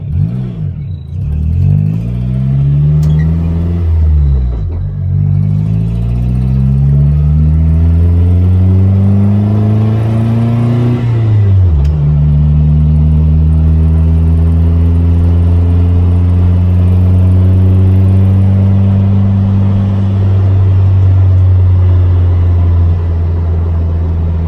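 A 1967 VW Baja Bug with a swapped Honda K24 VTEC engine pulls away on its first drive, loud close engine note rising through gears with distinct shifts, steady cabin rumble throughout.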